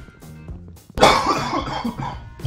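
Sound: coughing

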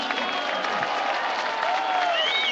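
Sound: audience applause at a political rally

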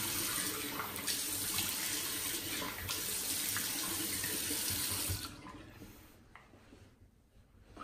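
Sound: water running from a sink tap while washing face

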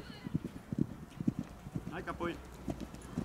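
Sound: stallion hooves clip-clopping and whinnying

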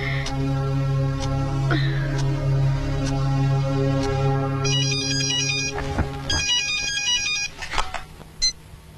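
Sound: phone ringing unanswered

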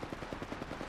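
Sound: gunfire in the video game Apex Legends

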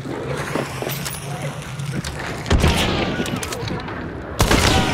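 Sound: gunshots in the video game Hunt: Showdown

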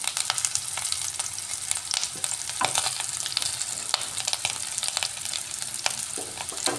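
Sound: potatoes frying in oil

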